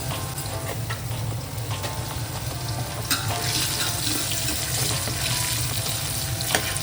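Potatoes frying in hot oil with salt and turmeric after a cumin tempering, a steady close sizzle with occasional clinks and stirring noises throughout.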